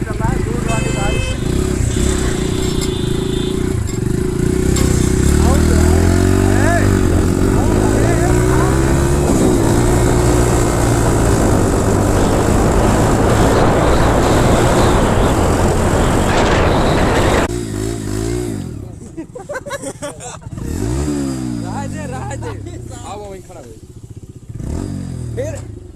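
A Hero motorcycle with a modified Bullet-style exhaust runs close by with a deep, throbbing thump and repeated revs that rise and fall, then fades as it pulls away. People talk loudly over it throughout.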